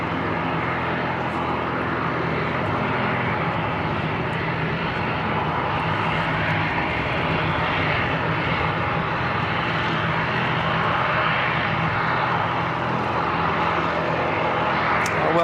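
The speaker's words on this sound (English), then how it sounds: "Wow, some good noise coming off the aircraft now." Steady, loud roar of a C-17 military transport aircraft's jet engines at Christchurch Airport in wet weather, a continuous broad rumble holding for the whole stretch with no talk over it.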